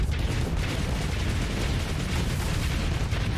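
Cannons firing in the space combat game Starsector, a dense rumbling barrage of heavy booms running continuously and loudly throughout.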